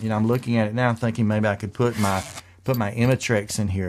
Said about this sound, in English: sorry for the zippy noise.